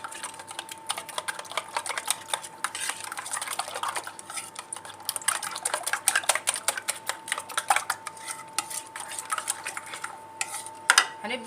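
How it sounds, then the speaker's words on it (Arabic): Spice blend for chicken strips mixed in a bowl with a utensil, with rapid close clicks and scrapes of metal against the bowl continuing steadily throughout. "هبدا ان انا اخلط الخلطه دي كده مع بعضها"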